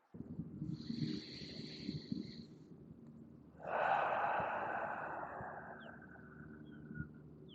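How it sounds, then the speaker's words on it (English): Slow diaphragmatic breathing, a soft drawn-out inhale followed by a longer, fuller exhale that swells and then tapers, close and quiet with no talking. "Remember, inhales, belly rises, exhale, belly falls."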